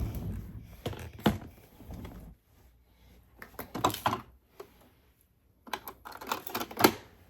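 A sewing machine stitches a vinyl zipper pouch in three bursts of close, rapid mechanical clatter, separated by brief pauses.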